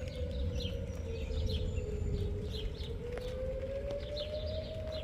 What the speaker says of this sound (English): There's the tornado sirens in town.